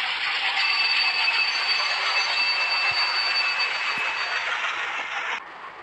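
A WDM 3A diesel locomotive train rolls past close by with a steady, loud rush of wheels on rail and faint metallic squeal, the roar holding for several seconds before dropping off abruptly near the end.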